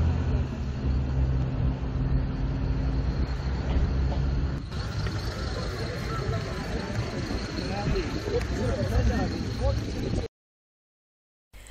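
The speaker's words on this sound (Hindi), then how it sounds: "मैं आपको यहाँ पे गाड़ी की थोड़ी सी आवाज़ भी सुनाती हूँ" Car engine and road noise while driving the high, cold mountain road near Babusar Top, a steady close rumble with tyre roar that shifts in tone midway, with talk over it before cutting out near the end.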